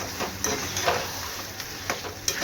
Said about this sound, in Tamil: இந்த மசாலாவோடு நல்லா மிக்ஸ் பண்ணி விட்டுறணும்.